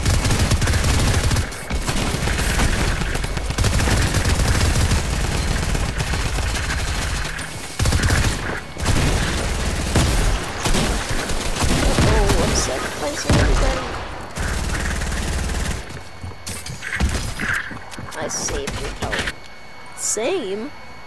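Spraying automatic gunfire in the video game Fortnite, loud and nearly continuous bursts with brief gaps, crowding the whole mix while players talk over it.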